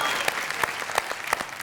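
Audience at a kavi sammelan poetry gathering applauding, a dense run of rhythmic hand claps with sharp individual slaps standing out, steady and close, with a voice briefly audible beneath.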